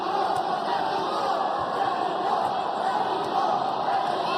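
A boxing arena crowd roars steadily in a dense, continuous wash of cheering and shouting from many voices, with no breaks, during the Kyoguchi versus Bermudez title fight.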